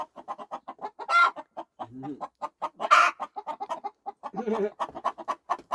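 Chickens cluck and squawk close by in a quick, busy series of short calls, with a louder squawk or two standing out.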